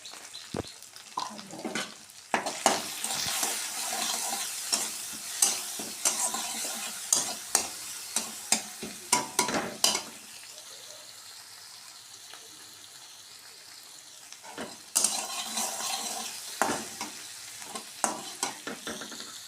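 Loud sizzling from crab frying with onions, salt and oil in a pan, broken by repeated scraping stirs, easing off briefly midway before picking up again.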